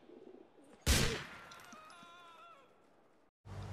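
A pigeon in the video game GTA IV gives a brief coo right after a sharp, loud gunshot, the call fading over a couple of seconds before a short silence and more game sound.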